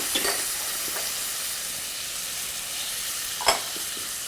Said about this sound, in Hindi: और पीस, ग्रीन पीस, मटर। ये मिक्स करके लेते हैं।